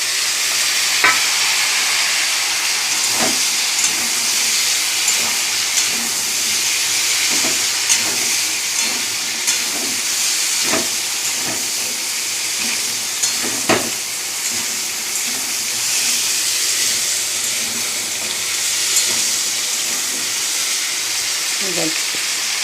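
Papaya, a bay leaf and panch phoron five-spice fry in hot oil for a tempering: a loud, steady sizzling hiss that runs throughout, punctuated by light clicks of stirring.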